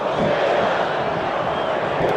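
Football fans in a packed stadium during a Grêmio versus Flamengo Brasileirão match create a dense, steady roar of chanting crowd noise, loud and unbroken, with no clear individual voices.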